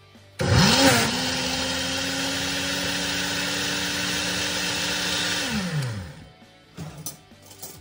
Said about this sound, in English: Put the lid on the blender.